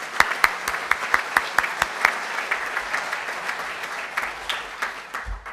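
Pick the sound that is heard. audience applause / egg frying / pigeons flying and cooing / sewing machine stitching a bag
audience applause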